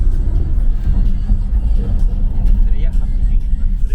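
A car pushing hard at around 70 mph, its engine and road roar a loud, dense, continuous rumble close by, with voices talking over it.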